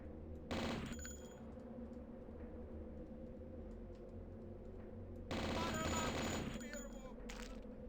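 Video game gunfire from Blood, E5M7: two dense, loud bursts of rapid shots, one short near the start and a longer one around the middle, over a steady droning game background with no talk.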